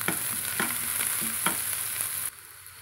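Chopped chili, shallots and curry leaves sizzle in hot oil in a pan while a spoon stirs them in several quick scraping strokes, close and steady, before the sizzle drops away.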